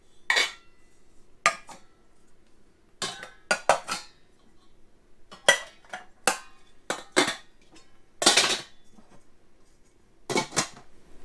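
Nesting pots, pans and a stepped universal lid being stacked for storage under an RV cabinet: a series of sharp metallic clanks and clatters, close and loud, coming in irregular bursts with quiet gaps between them.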